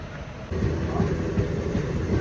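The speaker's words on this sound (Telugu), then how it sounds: "సో ట్రైన్ అయితే స్టార్ట్ అయిపోయింది" A moving train rumbles steadily inside a 3-tier sleeper coach on a night journey, with a low continuous roll and faint rhythmic clatter of the wheels, close and constant throughout.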